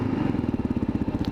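A 2022 Kawasaki KLR650 single-cylinder motorcycle idles close by, a loud, even, rapid thumping pulse with a smooth mechanical chatter.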